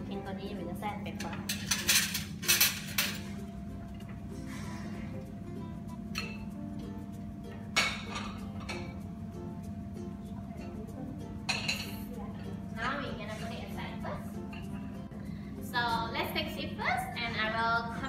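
Cutlery and plates clink and clatter in bursts while a table is cleared after a main course, with scattered metallic chinks and dish knocks under ongoing speech.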